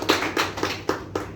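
A small audience claps for the event's sponsor, Tara sir, in about five distinct bursts, sharp and fairly close, with gaps between them, like scattered hands joining in.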